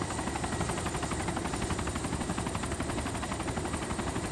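A helicopter in the video game Arma 2 DayZ gives off a steady, fairly quiet rotor drone with a fast, rhythmic chopping texture. The sound is heard alone.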